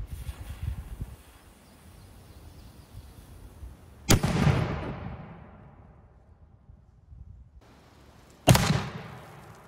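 A cannon firing chain shot at wood armored with fascines of bundled sticks, two loud sharp booms several seconds apart, each with a long rolling echo fading outdoors, low rumble between.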